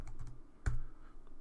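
Keystrokes on a computer keyboard during electronics harness cabling work in Creo Parametric, a few quick clicks with one louder tap near the middle, close and alone.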